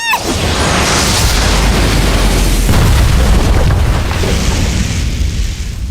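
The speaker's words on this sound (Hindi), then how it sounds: "ये स्वॉर्डमैन ब्रांच की स्किल थी, डिवाइन स्लैश।" In an anime fight, a Divine Slash sword skill lands as a loud, booming blast with a sustained roaring rush of energy that stays intense throughout before easing slightly at the end.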